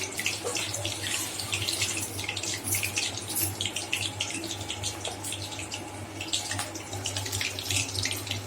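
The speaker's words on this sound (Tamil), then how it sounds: "தண்ணி ஊற்றி" Water pours from a tap in a steady, splashing stream while a rock fish is washed in a home kitchen, with scattered drips and clatters over a low hum.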